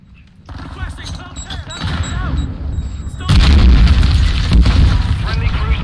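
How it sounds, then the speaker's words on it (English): A cruise missile strike in the video game Modern Warfare 2 hits with a deep, loud rumbling blast that swells and then surges heavier midway, over continuous battlefield noise and faint game radio chatter. "Friendly cruise missile deployed."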